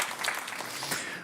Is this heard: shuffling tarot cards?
no